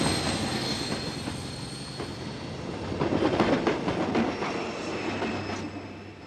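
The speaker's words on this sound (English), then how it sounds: "The train departed without him." A departing train rumbles and clatters along the rails, wheels squealing faintly, the noise swelling midway as the cars pass close by.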